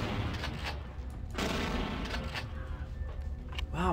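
Shotgun blasts in the vampire action RPG Vampire: The Masquerade – Bloodlines, a few loud, booming shots spaced out over a dense game soundscape with no talk.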